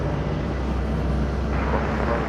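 An aircraft at Madeira Island Airport produces a steady, broad engine roar of constant loudness, with no break across the short stretch.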